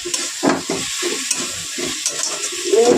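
Garlic paste, onion and tomato sautéing in a pan for a boal fish curry, a close crackling sizzle broken by repeated scraping strokes of a spatula.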